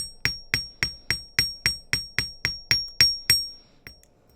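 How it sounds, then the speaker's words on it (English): A hammer striking wire to flatten and set the shape of geometric earrings: about a dozen crisp metallic taps in a steady, even rhythm, close and clear, each with a short bright ring, ending in one lighter tap. "I am just going to hammer it so that I don't lose the shape"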